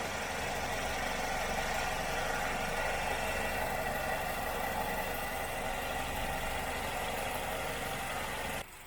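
Running engine of a used car being inspected, a steady broadband idling drone with even vibration, held at a constant level and cutting off at the very end.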